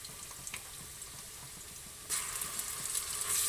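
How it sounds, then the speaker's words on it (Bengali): Chopped onion and green chilli sizzle in hot oil with a steady crackling fry, the sizzle suddenly growing louder and brighter partway through as the pan is stirred. "কুচিটা ভাজা ভাজা হয়ে গেছে"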